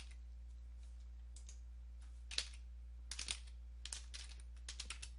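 Computer keyboard keys struck in short irregular bursts and single clicks, close and fairly faint, against a steady low hum, while commands are entered to fix a Windows 10/11 automatic repair loop.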